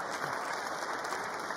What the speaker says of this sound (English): I think they also deserve a round of applause